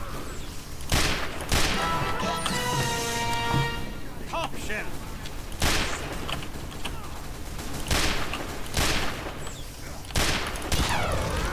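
Gunfire in the game Team Fortress 2, with several sharp, loud shots at irregular intervals mixed with mechanical creaks and clicks, while a voice talks in between.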